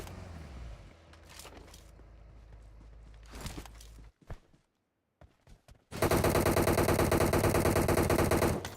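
Automatic gunfire in the PUBG Mobile game, a loud, dense burst of rapid shots filling the last few seconds after scattered footsteps, single thuds and a brief quiet gap.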